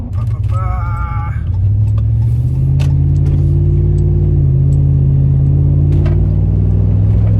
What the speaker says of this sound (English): it's right now I'm driving over some like potholes, and it's coasting through it